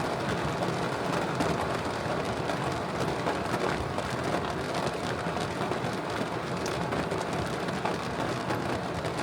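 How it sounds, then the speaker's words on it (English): Heavy rain drums steadily and loudly on a car, a dense, unbroken roar of drops close by with a faint low rumble underneath and no voices. "I'll include a clip here of the sound of the rain"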